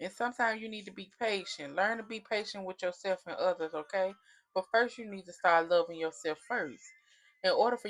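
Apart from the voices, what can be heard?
No distinct noise like a dog, phone or traffic.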